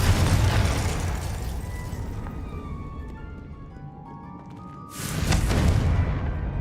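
In a Harry Potter video game, the Confringo fire spell goes off with a loud booming blast, then a rumbling tail that fades. A second heavy boom erupts near the end, with no voices.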